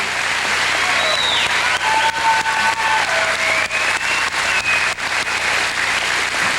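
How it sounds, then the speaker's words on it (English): A graduation ceremony crowd applauds parents and grandparents with a loud, dense, sustained round of clapping that fills the hall evenly, with faint cheering voices rising above it. "Let's show them our appreciation with a round of applause"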